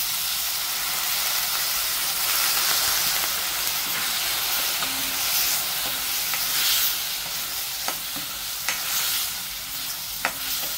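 Peanuts and chana dal sizzling and frying steadily in hot oil in a pan for a spinach dish, a continuous close crackle with occasional stirring scrapes.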